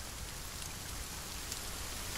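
Rain in the survival game The Forest falls as a soft, steady hiss of drops, faint and continuous with no voices over it.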